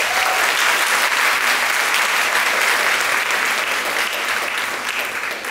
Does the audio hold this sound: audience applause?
yes